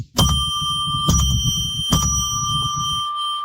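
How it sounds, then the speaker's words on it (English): A small bell rung three times in a quiet room, each strike a bright clear ring with long sustained overtones, spaced evenly about a second apart. "So I'm going to ring a bell 3 times now."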